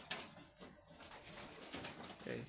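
Pigeons coo softly in a pigeon shed, with low murmuring calls repeating close by over quiet background rustle.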